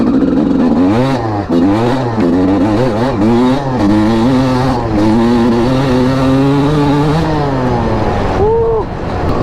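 A Honda CR250R two-stroke dirt bike revs hard and close, its pitch climbing and dropping repeatedly through gear changes and throttle blips, loud and raspy with no talk.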